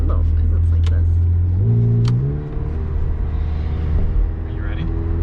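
A 2021 McLaren 720S engine rises in pitch as the car accelerates, a loud steady drone that climbs through a gear change, with people talking inside the cabin.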